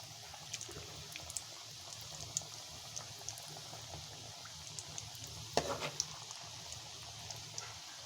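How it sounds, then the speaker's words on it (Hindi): Pieces of egg-enriched Afghan khajoor dough fry in a pan of oil, giving a faint, steady bubbling sizzle with occasional small pops. "इसी तरह से हम बाकी सारे खजूर जो है फ्राई कर लेंगे।"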